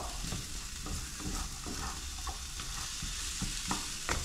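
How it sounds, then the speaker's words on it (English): Beef stew stirred in a hot pot, a steady close sizzle of frying with repeated scraping strokes of a spoon along the bottom. "I'm gonna give it a mix up. Get all that bits up from the bottom"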